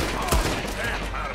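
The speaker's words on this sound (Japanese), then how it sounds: "やばっ、大砲。" Dense burst of cannon and gunfire in the video game Red Dead Redemption 2 during a naval battle, one heavy boom rising out of a continuous roar of shots.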